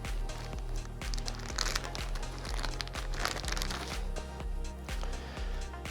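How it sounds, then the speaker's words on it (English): A plastic Ziploc bag holding a pack of electrodes is opened up close, giving a run of crinkling, crackling plastic rustles through the whole stretch with a low steady hum underneath. "Open up the Ziploc bag."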